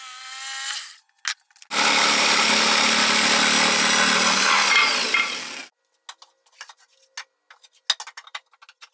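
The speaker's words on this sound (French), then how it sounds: "Vous pouvez ensuite scier le tout en utilisant votre scie sauteuse." A jigsaw cuts through wood for a Viking-style wooden chair, one loud continuous buzzing run of about four seconds, preceded and followed by short bursts and scattered taps and clicks.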